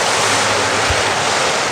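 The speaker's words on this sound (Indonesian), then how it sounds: "Wah, kayak ini ombaknya tinggi guys" A loud, continuous roar of ocean surf at a beach near Jogja, Indonesia, with high waves crashing and washing close by, mixed with wind buffeting the microphone.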